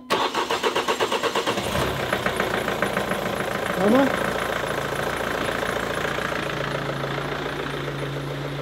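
An Opel Astra engine cranks with a rapid rhythmic chugging, catches, and settles into a steady idle. A brief voice calls out in Swedish over the running engine.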